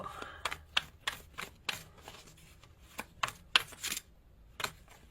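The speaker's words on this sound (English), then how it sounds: "I know the shuffling can be annoying sometimes" Tarot cards are shuffled in quick, uneven bursts of crisp riffling and slapping, close and fairly quiet, with no talking.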